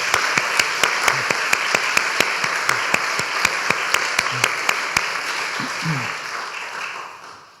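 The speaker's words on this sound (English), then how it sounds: "Let's give them some applause." An audience applauds after a lecture in London's Newington Green Meeting House: steady, moderately loud clapping with sharp individual claps standing out, fading toward the end with no talk over it.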